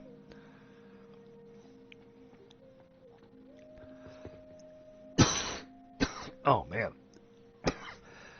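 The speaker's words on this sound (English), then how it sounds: "I can't quit coughing." A person coughs and clears their throat in a burst of harsh, repeated fits after a quiet stretch of low background hum, with a brief spoken exclamation among the coughs.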